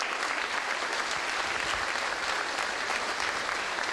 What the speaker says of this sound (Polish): Także gromkie brawa dla tych wszystkich młodych ludzi